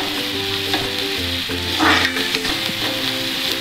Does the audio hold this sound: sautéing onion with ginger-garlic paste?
yes